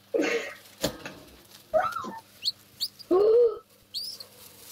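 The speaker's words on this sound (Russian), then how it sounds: "Это голубь?" A pigeon making short cooing calls and chirps with brief bursts of wing flapping, close by in a quiet indoor setting, the sounds coming in separate bursts with gaps between them.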